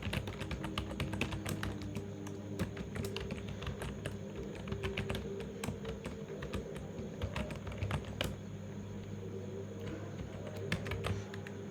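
Rapid keyboard typing while code is written in an editor, a continuous close run of light clicky keystrokes with brief pauses, no talking.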